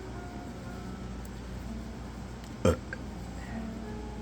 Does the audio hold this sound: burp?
yes